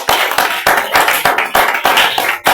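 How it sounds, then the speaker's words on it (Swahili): A church congregation claps for Jesus in loud, close, sharp bursts, the rhythm repeating roughly every half second with no talk over it. "Tumpigie Bwana Yesu makofi"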